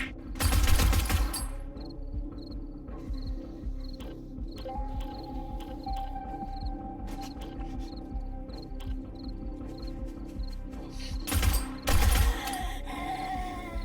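Video game gunfire: loud bursts of shots open and close the stretch, separated by a quieter run of rhythmic chirping ambience and a steady hum.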